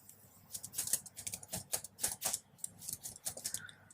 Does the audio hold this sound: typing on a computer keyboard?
yes